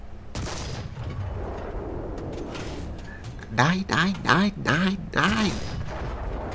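Tank cannon fire from a World War II era Soviet tier 2 tank battle in War Thunder: a sharp blast near the start, then speech that carries through the rest of the clip with loud bursts over it.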